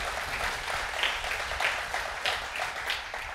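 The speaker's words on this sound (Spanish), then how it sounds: "Un aplauso, Señor." Church congregation applauding during a sermon, a soft, continuous crowd clapping with gentle swells, heard at a moderate distance.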